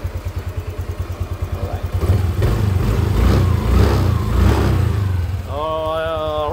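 A TMX155 motorcycle engine, freshly fitted with a new piston, runs close and loud, first with a rapid even idle pulse, then revved to a steady higher drone, while someone talks briefly near the end.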